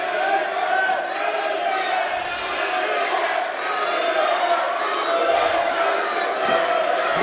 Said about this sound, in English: the crowd is really letting Todd Letterman have it